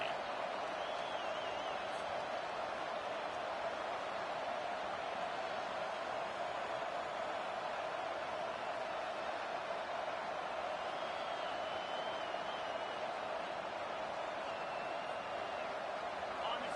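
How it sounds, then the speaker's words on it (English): A stadium crowd at a Clemson vs Arkansas college football game keeps up a steady, distant-sounding roar for the whole stretch, with no breaks in the wash of noise and talk over it. "with this place rocking, the crowd forces a false start"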